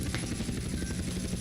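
A helicopter flies in the video game GTA San Andreas, its rotor chopping in a fast, steady rhythm at moderate volume, alone with no talk over it.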